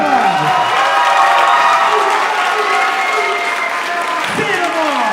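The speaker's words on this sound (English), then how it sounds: "Give yourself a round of applause." Audience at a jazz workshop community showcase and closing ceremony applauds loudly and steadily, with a few cheers and whoops, and voices rise over the clapping.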